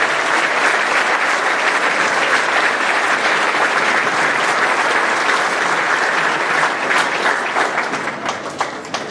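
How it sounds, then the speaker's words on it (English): A crowd at a school band festival concert applauds the student musicians, loud dense clapping sustained throughout and tapering off slightly at the end. "How about a nice round of applause for these students and all their hard work?"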